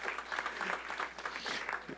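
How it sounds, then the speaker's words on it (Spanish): Church congregation applauding steadily throughout, a dense, even wash of clapping from many hands with no speech over it. "Dale ese aplauso al Señor"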